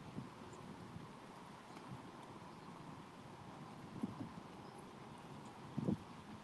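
Steady wind on the Mohawk River, a continuous broadband rush with low gusty rumble at a lock where fishing is under way, with brief louder buffets near the end.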